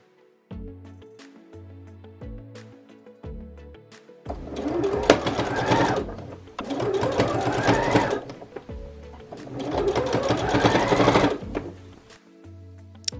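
A sewing machine stitches layered patchwork dress fabric with lining and ruffles along a curved neckline, with three long fast bursts of loud rhythmic whirring and needle clatter between short slow stitch runs.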